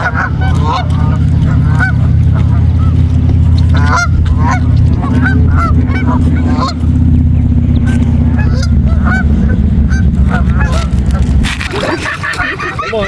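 A dense flock of geese at a carp lake in the US honks continuously and loudly, overlapping calls forming a constant clamor that ends in a sudden shift of noise.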